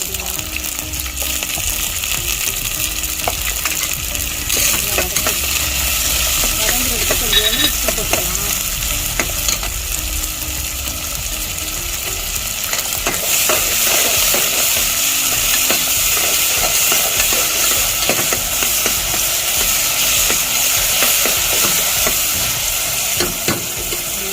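Onions and green chilli sizzle loudly in hot oil for mutton chukka, a constant close frying hiss with occasional stirring scrapes.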